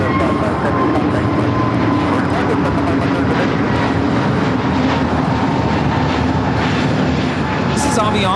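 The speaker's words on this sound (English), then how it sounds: "This is Avianca 557 taking off to Guatemala City on the A320neo." Avianca Airbus A320neo taking off at LAX, a loud, steady engine roar heard from nearby, with someone talking over it.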